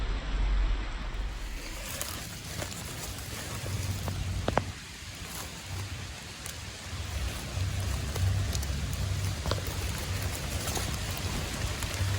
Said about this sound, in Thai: ฝนตก ฝนตก ฝนตก